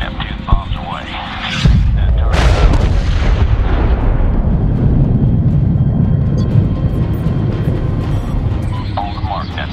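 Airstrike bombs explode in the Medal of Honor video game, a heavy booming blast rolling into a long, loud rumble, with shorter distant bangs and radio-style voices talking over and around it.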